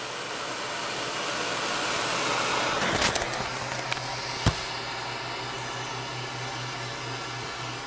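Open flame burner roaring steadily with a broad hiss while heating a metal ball for a thermal expansion demonstration, a few metallic clinks and a sharp tap partway through.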